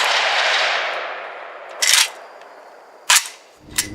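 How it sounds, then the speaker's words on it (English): Rifle shots from a Zastava OPAP M70 at an outdoor range: a fading roar of echo, then three sharp, loud cracks spaced irregularly, with no voices. "you just saw us firing my Zastava OPAP M70 again"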